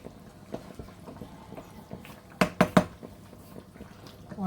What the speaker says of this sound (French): on essaye de mettre le couvercle